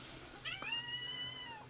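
A cat gives a single drawn-out meow, rising sharply and then holding a long wavering tone, heard alone and fairly close against a quiet room.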